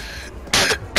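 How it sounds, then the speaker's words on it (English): Two short, harsh coughing bursts from a player in Hitman, close and loud, the second briefer, following a quieter stretch of room tone. "I just started coughing"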